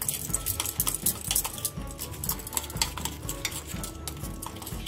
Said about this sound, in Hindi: और 1 स्पून जिंजर गार्लिक पेस्ट और लेमन जूस 1/2 स्पून, इसको अच्छे से मिला मिक्स कर देंगे